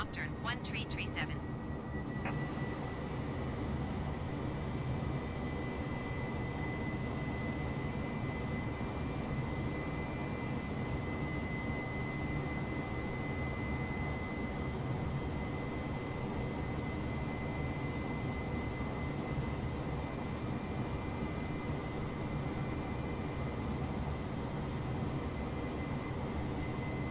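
Airliner jet engines hum in Microsoft Flight Simulator during a climb, a steady, even low roar with a faint high whine, constant and unchanging at moderate level for the whole stretch.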